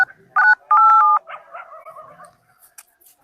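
A telephone keypad sounds two loud, clear dialing tones in quick succession, followed by a softer warbling tone that fades out.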